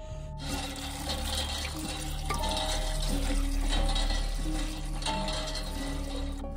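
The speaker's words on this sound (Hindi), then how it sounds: "इसी नलके का पानी हम ले रहे" Water runs steadily from a tap inside a cremation ground, a continuous splashing flow alongside a low background hum, with no one talking.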